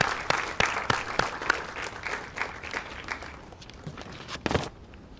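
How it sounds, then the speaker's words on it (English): Graduation audience applauding the class of 2022, clapping with distinct individual claps standing out up front, fading gradually over several seconds with a late burst of nearby claps before tapering off. "Please join me in applauding the hard work, dedication, and achievements of our class of 2022"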